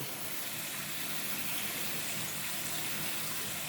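A gentle, constant stream of tap water pours through potting mix for a Homalomena in a plant pot, making a soft, even rushing that holds steady throughout, with no talking.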